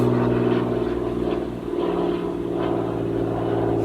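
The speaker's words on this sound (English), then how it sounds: "Freaking airplane." A propeller airplane drones overhead as a steady, loud low hum with stacked engine tones, holding throughout with a slight swell and dip midway and no talk.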